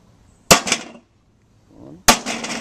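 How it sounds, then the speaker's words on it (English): Two sharp, loud metallic impacts from a 2 pound hammer striking a Solar Star attic fan, each with a bright ringing decay, spaced about a second and a half apart with a faint rustle between them. "Hefty swing with, that's at least what, a 2 pound hammer?"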